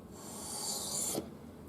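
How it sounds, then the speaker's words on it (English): A knife blade drawn across a wet 3000 grit whetstone, one smooth, soft rasping stroke that swells and then cuts off, close and fairly quiet with no voices. "Then put the next stone in place, again wet it a bit, the 3000 grit this time, and slide the knife on it again with an angle"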